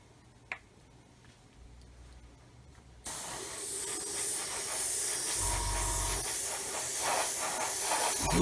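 An airbrush sprays paint onto the large wing surfaces of a 1/144 scale C-141B Starlifter model, starting after a quiet stretch with a faint tick, then a steady close hiss that continues to the end.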